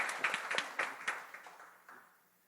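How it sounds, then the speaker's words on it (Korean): Church congregation clapping to welcome a returning missionary at a Sunday worship service; a short burst of scattered claps in a room that thins out and fades within a couple of seconds. "우리 환영과 축복의 박수 하도록 하겠습니다"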